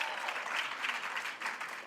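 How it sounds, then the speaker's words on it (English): A short burst of steady crowd applause at a county school sports awards ceremony for cheerleading and flag football athlete Jamise Spivey, dense and even throughout. "Clap it up again for Jamise Spivey"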